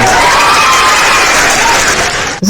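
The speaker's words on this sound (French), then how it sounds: "On applaudit pour la famille." Dense crowd noise of clapping mixed with cheering and shouts, loud and continuous, cutting off abruptly just before the end.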